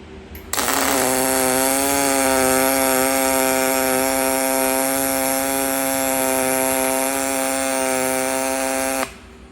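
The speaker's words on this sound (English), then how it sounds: "We simply turn the welder on." An aluminum welder switched on and running on metal, a steady loud buzzing hum with strong even harmonics starting abruptly and holding unchanged for about nine seconds before cutting off, no voices.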